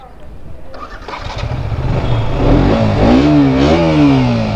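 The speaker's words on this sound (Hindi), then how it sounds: "चलो फर्स्ट टाइम बाइक को राइड कर रहे हैं" A KTM motorcycle engine cranks and catches, then idles and revs up and down in rising and falling surges, loud and close.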